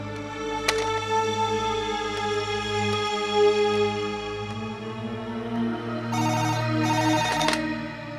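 A telephone ringtone repeats through the whole clip in a Tamil TV serial scene set around a call to a hospital, a steady electronic melody with brighter high bursts near the end and no talk over it.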